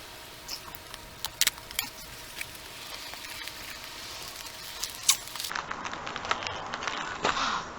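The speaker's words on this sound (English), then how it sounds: "That was some extreme ripping." Crinkly plastic packaging is torn and pulled open, with irregular crackling and a few sharp snaps, close and fairly loud.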